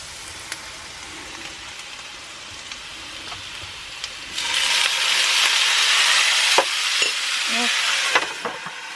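A splash of water goes into a hot cooking pan and it begins to simmer, a steady hiss swelling louder about halfway through with a few clinks of utensils, close and without voices.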